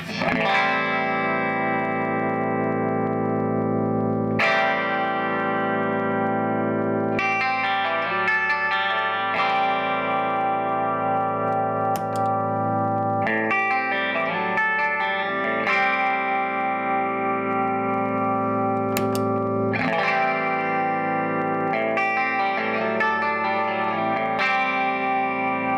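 Electric guitar runs through a One Control Lemon Yellow compressor pedal, with clean, evenly sustained chords and picked notes ringing out and decaying slowly, in loud phrases separated by short pauses.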